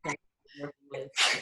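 A single sharp sneeze bursts out loud and close at the end, after short breathy intakes and a brief murmured voice in a quiet room.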